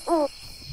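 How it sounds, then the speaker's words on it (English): A single short owl hoot sounds clearly and close, followed by a quiet low murmur against faint background hiss. "Four hooting owls, their eyes burning bright."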